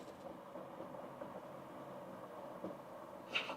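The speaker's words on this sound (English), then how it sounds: "You can hear the coffee machine, innit?" Low steady mechanical rumble and whir of a coffee machine running, faint and continuous, with a brief brighter hiss near the end.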